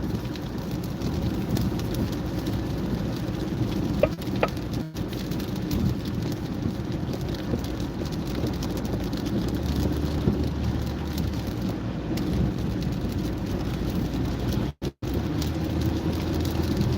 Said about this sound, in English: The rain is really pushing the car.